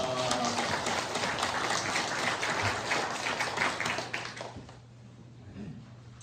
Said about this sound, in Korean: 주님께 영광의 박수 올려드립니다.